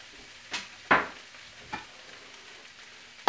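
Shrimp and vegetables stir-fry in a hot pan, with a soft background sizzle broken by a few sharp bursts as the food is stirred and tossed, close and alone without talk.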